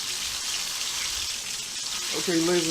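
A whole chicken frying in a pan gives a constant crackling sizzle that fills the short span, with a voice-like tonal sound rising briefly near the end.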